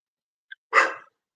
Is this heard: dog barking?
yes